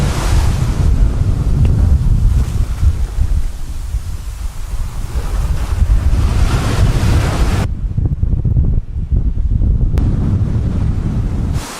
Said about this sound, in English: I had to take a respite here in this little shelter because it's so windy